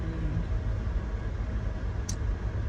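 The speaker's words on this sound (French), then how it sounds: "Le bruit que vous entendez, c'est le chauffage." Steady low rumbling hum of a heater blowing, with constant broadband noise and a brief faint high blip near the end.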